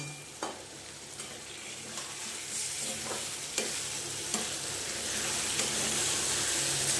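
Chicken pieces marinated in ginger-garlic paste, lemon juice, salt and turmeric sizzle and fry in a pan for a dhaba-style chicken do pyaza, a steady hiss with occasional clinks and stirring knocks, no talking.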